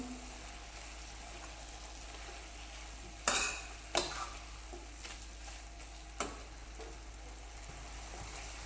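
Methi bhaji with salt and crushed peanuts is mixed in a pan over a medium flame: a quiet background sizzle with a handful of sharp spoon scrapes and clicks spaced a second or two apart, no voices.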